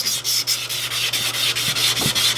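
A fairly fine belt sands rust off a fire-damaged drill press, producing a continuous close, harsh abrasive rasp that pulses slightly as the sander moves up and down.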